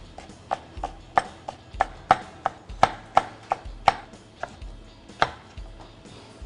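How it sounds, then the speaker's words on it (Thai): Three-colour chillies thinly sliced with a knife on a cutting board, a quick regular run of sharp close chops, about a dozen and a half evenly spaced knocks with no talk. "พริกสามสีของเราครับ ผมจะซอยบางๆแบบนี้ครับ"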